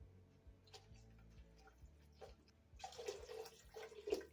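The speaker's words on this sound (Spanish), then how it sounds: "agregamos el agua" Water is poured into a cooking pot of seasoned chile relleno broth with black pepper and bay leaves, starting after a few quiet clicks and continuing as a steady, close splashing pour through the second half.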